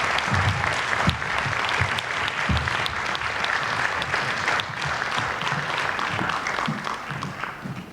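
Audience applause at a Title IX 50th anniversary celebration forum, a steady, dense round of clapping from a sizeable crowd that continues evenly throughout without talk over it.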